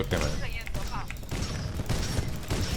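Gunfire in the video game Titanfall 2, dense rapid shots and impacts rattling continuously at close range, with game effects layered over the barrage.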